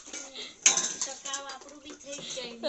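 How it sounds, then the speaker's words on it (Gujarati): Freshly washed utensils and dishes are handled in a home, giving quiet, close metallic clinks and clatters in a loose, irregular series with a sharper clank near the start. "રોહિયા બધા વાસણ ધોઈ કાઢ્યા"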